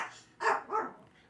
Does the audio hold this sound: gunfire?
no